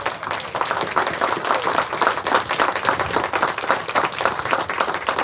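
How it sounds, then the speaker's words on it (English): Dense, steady applause from a crowd at a downtown Orland Park groundbreaking ceremony, loud and close throughout, with no one speaking over it. "Let's get a round of applause."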